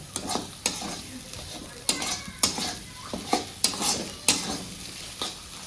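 Spice masala fries in a pan over a low gas flame while a spoon stirs it in repeated scraping strokes, sharp clinks against the pan marking an irregular rhythm over a soft, close sizzle.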